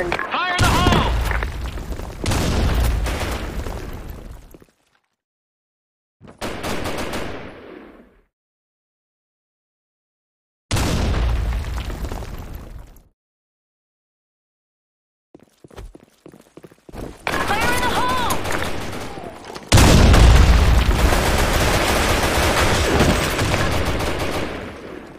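Grenade blasts and gunfire in a Counter-Strike style video game, loud bursts of shooting and booms in separate chunks broken by silent gaps, with a game voice calling out between them.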